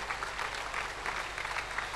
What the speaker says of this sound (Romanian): Give a big hand for Jesus.